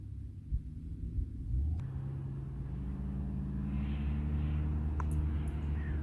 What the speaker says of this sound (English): These guys with their fast cars, I don't know if that's coming through on the audio or not.